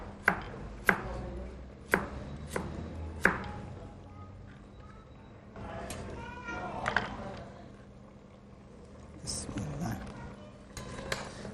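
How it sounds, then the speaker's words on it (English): A knife chops carrots on a cutting board in several sharp, evenly spaced knocks at the start, with a few more cuts later. A voice speaks over part of it. "I'm going to chop in some carrots."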